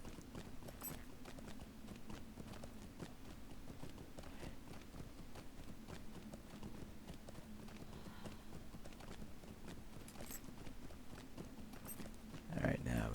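A video-game horse gallops in a steady, rapid clip-clop of hoofbeats that runs continuously and evenly at moderate loudness throughout, over a low droning game background.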